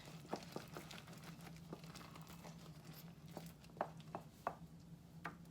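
Hot homemade peanut brittle candy is stirred quickly in a pot just after baking soda goes in, giving faint, scattered scraping clicks and crackles against a quiet background.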